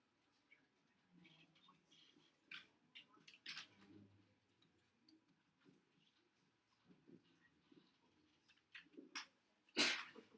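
A single sharp sneeze bursts out near the end, fairly close, in a classroom with quiet room noise and faint scattered murmurs and shuffling before it.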